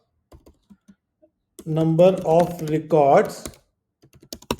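Computer keyboard keys tapped in short scattered bursts before and after a stretch of someone talking, the clicks close and light.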